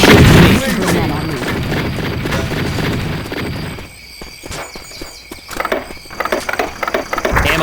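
Left 4 Dead 2 gunfire in a swamp level: a dense, loud wash of game noise gives way to a run of sharp, close shots cracking in an irregular burst.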